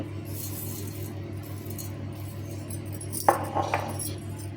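A handful of mustard seeds drops into a mixer grinder jar, making a short bright rattling clink over a quiet background hum. The rattle comes close and lasts about half a second, with a faint second patter right after.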